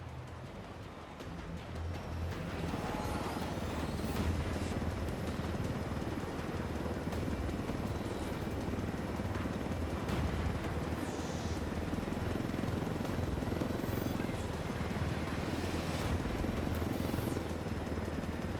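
Helicopter in the video game Ghost Recon Wildlands: a steady, continuous rotor and engine rumble with a dense, even drone that holds at moderate loudness throughout, no voices over it.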